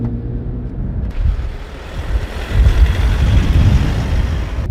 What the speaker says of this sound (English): you can hear the diesel engine at times when you're at low RPM